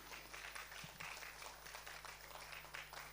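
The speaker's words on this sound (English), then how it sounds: "Can we have a big round of applause?" Continuous clapping from a seated audience at a Metro Rail Kolkata technical seminar, an even, dense patter of hands throughout with a low electrical hum underneath.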